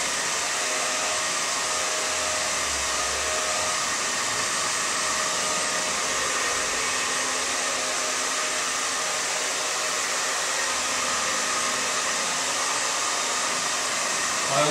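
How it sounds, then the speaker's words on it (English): A hair dryer blows steadily over wet paint on an art piece in a studio, a loud, continuous broadband whoosh with a constant motor hum and no break for the whole stretch. "I always have a hairdryer in the studio"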